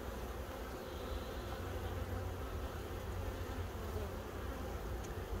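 Honey bees swarming around an open hive during a mite treatment season, a dense, continuous buzzing hum close by and steady throughout, with no voices.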